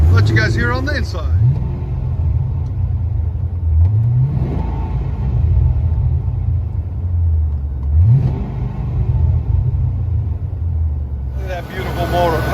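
Pontiac GTO with a 6.0L LS2 V8, long tube headers and a Bassani cat-back dual exhaust revs repeatedly, deep rumbling idle rising in several swells, loud and close, with people talking at the start and end.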